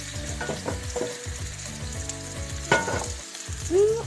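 Shrimp cooking in an oiled skillet, with a close, continuous sizzle and crackle broken by a few scraping stirs and clatters, loud and uninterrupted by speech.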